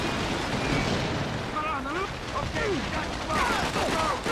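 Thompson submachine gun fire in Call of Duty World at War: Final Fronts on PS2, rapid bursts of shots mixed with battle noise and whistling effects, running under someone talking throughout.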